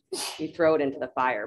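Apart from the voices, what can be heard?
sneeze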